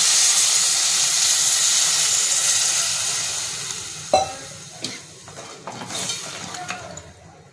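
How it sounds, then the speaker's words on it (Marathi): Water poured onto sautéed crab masala in a hot pan sends up a loud hissing, steaming sizzle that slowly fades. A few sharp clanks of a utensil against the pan follow. "त्याच्यामध्ये आपण पाणी टाकून घेऊया."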